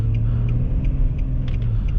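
A 2019 Nissan Frontier SV pickup with a V6 pulls away, its engine a steady, loud low rumble heard from inside the cab for a couple of seconds, with faint ticking above it.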